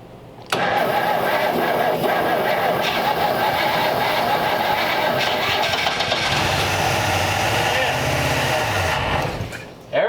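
Engine of a 1934 Ford Tudor sedan, long stored, cranks and catches, then runs steadily with a loud, rough idle for several seconds before cutting out, with voices faintly in the background.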